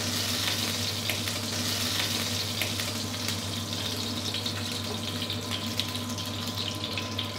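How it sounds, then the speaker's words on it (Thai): Shrimp frying in hot oil, with a steady, dense sizzle and crackle, moderately loud and continuous, with no talking. "กุ้งเวลาที่เราทอดกับน้ำมันร้อนๆนะครับ"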